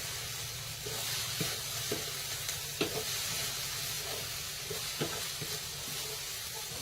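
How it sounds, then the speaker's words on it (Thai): Eggs stir-fried in a pan give a continuous sizzle, with intermittent clicks and scrapes of a utensil stirring against the pan. "เราก็จะเอา ไข่ลง ผัดให้กระนาสุก"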